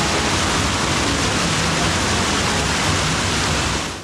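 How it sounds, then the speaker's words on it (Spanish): A waterfall among natural pools in Huayúa, Sonsonate, gives a loud, constant rushing roar of falling water, broadband and steady, with no voices, fading slightly at the very end. "Lo que más atrae es el sonido del agua corriendo de la cascada."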